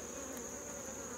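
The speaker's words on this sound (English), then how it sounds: "you can tell looking at how many bees are in this hive" Honey bees buzzing steadily inside an open hive during a Varroa mite check, a dense continuous drone close by with no voices over it.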